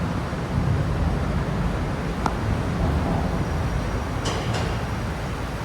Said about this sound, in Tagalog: Kaya naririnig nyo siguro yung ugong ng train